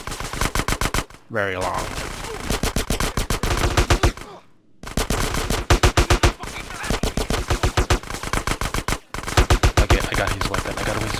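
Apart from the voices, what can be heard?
gunfire from actors shooting each other in GTA San Andreas video game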